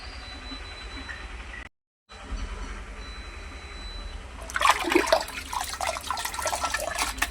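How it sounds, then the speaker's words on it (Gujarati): Sliced potatoes for homemade wafers being rinsed in several changes of water: quiet at first, then after a short gap a louder burst of splashing and sloshing that carries on steadily to the end, with no one speaking. "આપણે હવે આ 3-4 પાણીથી ધોઈ અને બાફવા મૂકી દઈશું."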